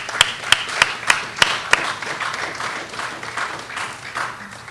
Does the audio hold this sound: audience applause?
yes